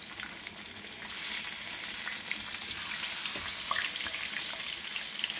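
Catfish fillets frying in hot oil, a dense crackling sizzle that swells louder after the first second and holds steady, with scattered pops and no talking.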